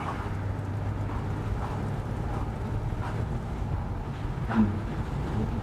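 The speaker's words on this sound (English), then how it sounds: "Bit of a misfire down low in the revs." A BMW E36 325 with a twin-pipe exhaust idles with a misfire at low revs, giving a steady low rumble broken by faint irregular stutters.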